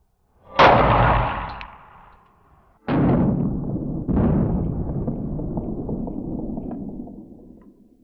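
A Glock 20SF pistol fires three loud, sharp shots, spaced a second or two apart, each leaving a long echoing tail that overlaps the next in an open shooting range.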